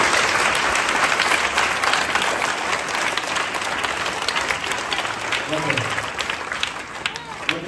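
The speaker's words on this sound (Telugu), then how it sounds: "ఒకసారి బిగ్ క్లాప్ చెప్పండి ప్రదీప్ గారికి" An audience claps for Pradeep at a gathering, giving a big, sustained round of applause that is loud and dense throughout and thins slightly near the end.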